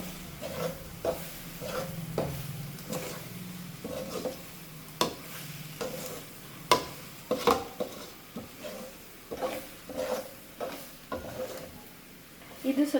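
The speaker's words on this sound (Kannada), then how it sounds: "ಇದು ಸ್ವಲ್ಪ ಮೊಟ್ಟೆ ಸ್ಮೆಲ್ ಹೋಗಲಿ ಅನ್ನೋದಕ್ಕೋಸ್ಕರ ಸ್ವಲ್ಪ ಜಾಸ್ತಿ ಹೊತ್ತು ಆಡಿಸ್ಕೊತೀನಿ" Egg rice fries in a pan with fresh coriander tossed in, a low constant sizzle under a long run of brisk, irregular spatula scrapes and taps against the metal, close by and with no voices.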